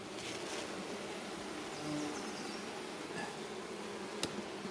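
A low, continuous hum of many honeybees around a beehive, a dense buzzing drone that stays at an even level throughout, with faint passing individual buzzes and a brief click near the end.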